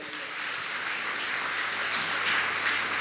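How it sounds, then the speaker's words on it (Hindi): A church congregation at a Hindi worship service claps together in a steady, dense wash of hand claps that fills the whole moment at an even loudness, with no voices rising above it. "ताली बजाइए।"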